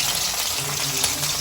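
Chicken frying in a home kitchen, a steady broadband sizzle and crackle with no talk over it.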